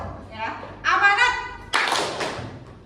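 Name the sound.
rhythmic hand clapping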